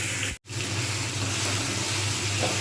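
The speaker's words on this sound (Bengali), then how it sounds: "ভালোভাবে ভাজব যাতে কাঁচা গন্ধটা চলে যায় এবং একটা গোল্ডেন ভাব চলে আসে ততক্ষণ পর্যন্ত আমি এটা ভাজতে থাকবো" Diced potatoes frying in hot oil in a home kitchen, a steady broadband sizzle that runs continuously, close and fairly loud, broken once by a brief silent gap near the start.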